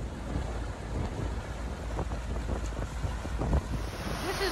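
Gusty wind buffets the microphone outdoors by a lock on the Trent-Severn Waterway, a continuous rushing roar with occasional faint knocks.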